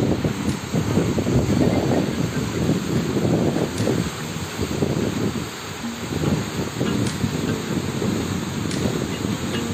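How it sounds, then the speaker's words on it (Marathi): Heavy river water roars below a tall bridge at night in the Kasara Ghat, a dense, constant rushing wash that stays loud and unbroken throughout. "पाण्याचा आवाज खूप जास्त प्रमाणात येतोय."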